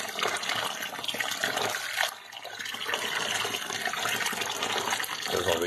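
Water gushes and pours steadily through aquarium sand during a second rinse, a continuous broadband splashing that dips briefly about two seconds in, with no voices.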